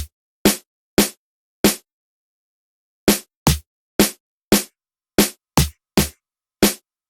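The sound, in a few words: snare drum pattern in FL Studio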